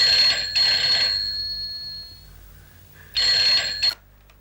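An electronic telephone ring sounds in two bright bursts, a double trill, then a pause and another short burst cut off abruptly, clear and close in a quiet indoor room.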